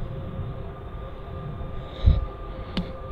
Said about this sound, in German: Scheiße, ist das nicht der Zug theoretisch schon?